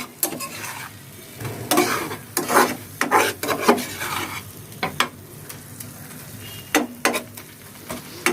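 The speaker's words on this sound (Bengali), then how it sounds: "টমেটো ক্যাপসিকাম এই মিশ্রণের মধ্যে ভালো করে নেড়ে চেড়ে 2 মিনিট রান্না করে নিব" A tomato and capsicum mixture for shakshuka being stirred in a hot pan, with scraping strokes of the spoon in uneven bursts over a steady sizzle, loud and close, with no voices.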